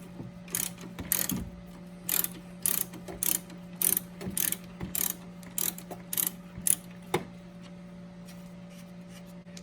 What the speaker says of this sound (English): now I'm gonna go ahead and remove our 3 nuts above our strut with a 14mm socket and a 1/2-inch ratchet